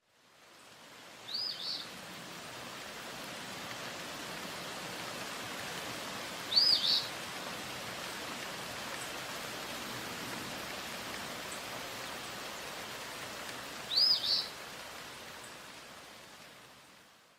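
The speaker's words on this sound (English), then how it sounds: "The winged travelers, birds, and their epic migration." Birds call in the Alaskan wild, with three short, high chirps spaced several seconds apart, faint over a constant soft hiss of background noise.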